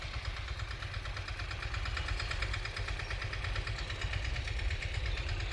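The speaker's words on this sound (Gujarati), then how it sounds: "ટ્રેક્ટર આવી ગયું છે આપણું વાડીમાં ફર્સ્ટ ક્લાસ" A tractor engine idles at a farm with a steady, close, rhythmic chugging throughout and no talking.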